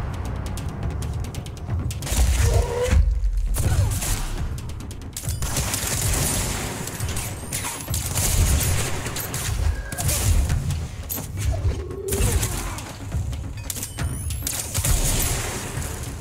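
Sniper-like gun firing in the video game Control, heard as sharp mechanical shots and clanking amid constant busy game noise, repeating a few times across the stretch with no talking.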